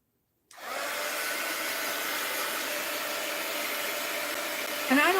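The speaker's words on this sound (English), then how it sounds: "let's hit it with the heat gun." A heat gun blasts hot air onto a walnut-ink mixed-media quilt piece, switching on abruptly into a loud, steady hissing roar that holds evenly to the end.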